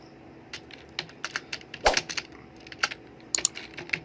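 Fingers type on a computer keyboard in MS Word, a close, uneven run of sharp key clicks with small bursts and pauses.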